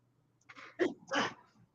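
A single close sneeze bursts out in two quick parts against a quiet background.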